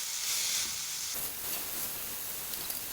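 Chopped garlic and ginger sautéing in oil in a pan for veg spring rolls, a steady close sizzle and frying hiss with stirring, growing louder and busier after a moment, with no talk.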